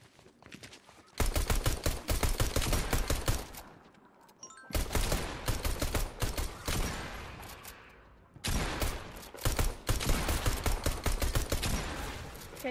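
Rapid automatic gunfire sounds in the Fortnite Creative video game, three long, loud, dense bursts of shots separated by brief gaps, with no talking.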